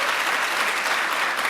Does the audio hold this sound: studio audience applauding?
yes